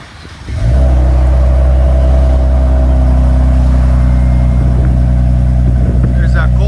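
A Ford Explorer ST's 3.0L twin-turbo V6 cold-starts, heard from inside the cabin. A loud, steady low engine drone holds at high idle after the start, with faint talk briefly over it.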